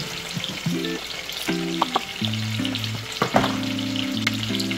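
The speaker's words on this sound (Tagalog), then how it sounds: "Ang gusto ko po sa sinigang, piniprito po muna yung salmon" Salmon frying in a pan as the first step of a Filipino sinigang, a steady close sizzle with intermittent clatter and scraping of stirring, no talking.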